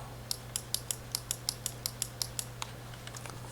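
A deck of cards for the Lord of the Rings living card game is shuffled by hand: a quiet series of crisp, evenly spaced clicks that slows and fades toward the end.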